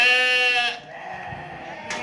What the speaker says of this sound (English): He's cutting out the ram lambs from the ewe lambs.